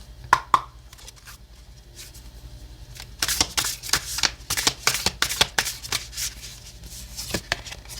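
Oracle cards shuffled by hand during a tarot reading, a quiet start of a few taps, then a rapid run of crisp riffling flicks and slaps that continues steadily, close and fairly clear, with no talking.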